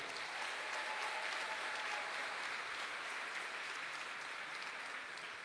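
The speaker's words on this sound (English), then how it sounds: "A huge round of applause," Loud, sustained applause from a large audience at a women-in-tech summit opening fills the whole span, a dense even wash of clapping with no gaps.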